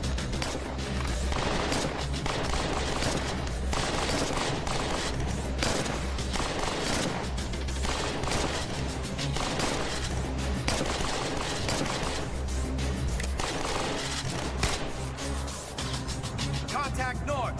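Suppressed gunfire in the zombie survival game State of Decay Lifeline, rapid repeated muffled shots in dense bursts over game ambience, with speech mixed in at times.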